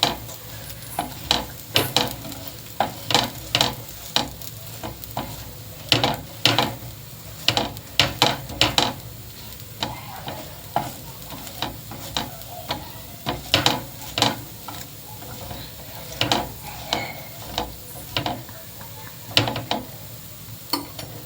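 Red chutney is spread across a dosa on a hot pan, hotel style, giving a long run of close, rhythmic scraping taps and clicks over a faint sizzle, with no talk.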